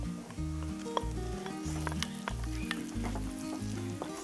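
Beef sizzles and fries in masala in a pan for beef pickle, a steady close crackling hiss with occasional stirring scrapes and small pops throughout.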